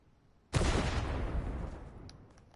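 In Fortnite a cannon goes off once after a brief quiet moment. The blast is sudden and punchy and leaves a long booming tail that slowly dies away.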